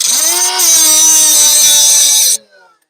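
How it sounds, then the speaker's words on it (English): A die grinder cutting off a shock absorber nut, a loud, piercing high-pitched whine held steadily for about two seconds before stopping abruptly, followed by a brief fading ring; no voices. "what we got here, my die grinder. I'm going to cut off right here"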